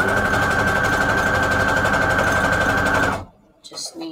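A sewing machine runs a fast straight stitch on junk journal pages, a loud, close, steady rapid whir for about three seconds before stopping, followed by faint handling noises.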